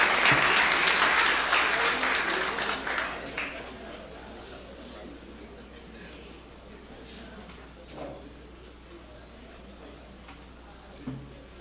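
An audience at a tribute event in Goiana applauds to welcome a speaker. The clapping is strongest at the start, then thins out and fades over a few seconds into a quieter room with scattered faint sounds.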